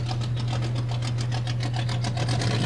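A custom car's engine idles at a cruise event, a loud, steady low rumble with a rapid, even lopey pulse from the cam, running continuously without any revving.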